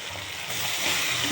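Chicken pieces hitting a hot pan of spiced curry base sizzle with a steady hiss that swells slightly as the meat goes in, close and continuous, with no one speaking.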